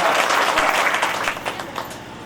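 An audience claps at a Shrimad Bhagwat Katha gathering, a lively burst of many hands that gradually thins and softens toward the end.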